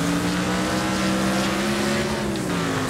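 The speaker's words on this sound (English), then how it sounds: "Still got that NASCAR sounding engine" A NASCAR-like car engine in the Wreckfest racing game gives a loud, steady droning roar that holds its pitch with slight rises and falls, close and continuous throughout, with no talking.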